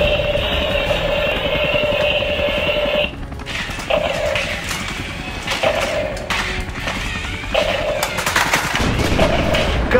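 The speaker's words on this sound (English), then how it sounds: "What an explosion!" A remote control Godzilla figure with heat ray breath battles Mechagodzilla, its toy speaker blasting loud crackling explosion and gunfire-like bursts mixed with repeating electronic beeps for about ten seconds.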